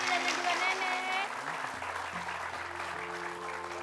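Studio audience applause at an Indonesian RCTI comedy variety show fills the clip, a steady dense clatter of many hands under a host's voice and background music.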